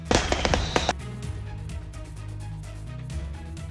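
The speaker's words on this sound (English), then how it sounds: "it was the moment a large number of fireworks exploded after a crash on a British Columbia highway." A large load of fireworks goes off after a crash on a British Columbia highway, with a rapid cluster of sharp cracking bangs at the start, then a lower rumbling, crackling aftermath.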